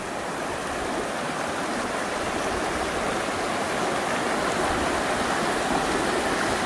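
A mountain river stream near Trummelbach Falls rushes in a continuous, even hiss of flowing water that stays steady from start to finish.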